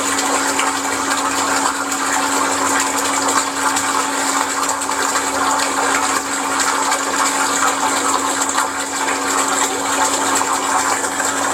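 Shimizu SPES-308K water pump running under test, throttled toward about 9 metres of head: a steady, loud rushing whir of water and motor, constant and unbroken throughout, with no talk.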